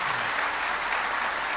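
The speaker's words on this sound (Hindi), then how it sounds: "ताली बजा दिए थोड़ा माई के लिए।" An audience applauding during a Hindu religious discourse on the story of Shiva and Parvati, a dense steady wash of many hands clapping together, continuous and fairly loud.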